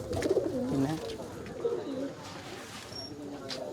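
Pigeons coo in a home loft, several soft throaty rolling coos near at hand over quiet background, with light chirps and movement in between.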